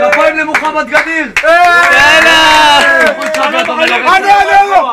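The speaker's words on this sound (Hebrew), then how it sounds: "כפיים למוחמד גדיר" A crowd applauds Mohammed Gadir at a rowdy gathering, with clapping mixed into loud, continuous chanting and shouting voices that swell in the middle and stay close and dense throughout.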